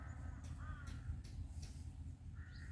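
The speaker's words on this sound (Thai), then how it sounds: "เสียงอีกา" Crows caw several times, harsh calls spread out over a faint background hum, somewhat distant and quiet.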